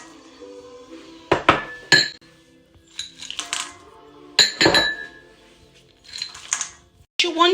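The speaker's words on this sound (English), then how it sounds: "Now the fun part, add your chocolate chunks in." Chocolate chunks dropped into cookie dough in a mixing bowl, a series of sharp clinks and clatters against the bowl, separated by short pauses.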